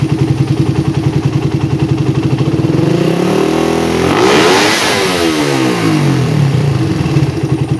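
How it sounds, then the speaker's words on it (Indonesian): A carbureted motorcycle engine with an open air filter idles with a rapid pulsing beat, then is revved hard to a high, loud scream before dropping back down. "untuk RPM atasnya saya geber sekali ya kalian perhatikan ke uh, eh, RPM nya"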